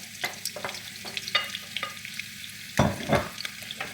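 Onions frying in hot oil for red oil rice hiss and crackle steadily, with a few stirring scrapes and a louder burst of sizzle partway through.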